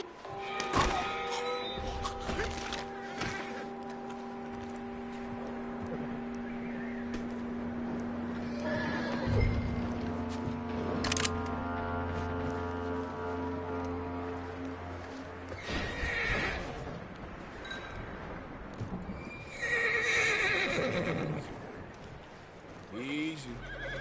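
A horse in the video game Red Dead Redemption 2 whinnies in long drawn-out calls, with snorts, hoof clops and thuds, loud and close, over a low steady background.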